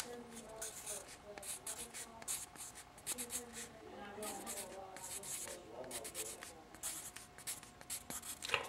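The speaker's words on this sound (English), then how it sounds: "I'm gonna write a little note on here to start" A pencil writes a note on Rite in the Rain waterproof paper, producing quiet, close, scratchy strokes in short irregular bursts while a person talks softly throughout.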